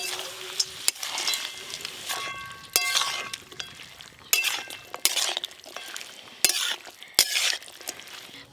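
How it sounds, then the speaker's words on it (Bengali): Fried lentil dumplings (bori) go into a sizzling pan on a village clay stove while small mixed fish cook. Loud frying hiss comes in bursts, broken by sharp utensil clinks and scrapes, with no talking. "ওপর দিয়ে ভেজে রাখা বড়িগুলোও দিয়ে দেব।"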